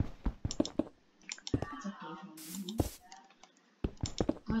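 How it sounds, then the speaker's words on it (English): Rapid mouse and keyboard clicks from a Minecraft session come in short bursts and clusters, close to the microphone, mixed with gameplay sounds. "Guys, I'm sorry you hear me clicking so much."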